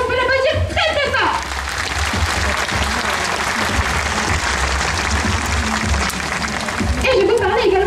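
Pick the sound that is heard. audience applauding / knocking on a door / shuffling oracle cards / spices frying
audience applauding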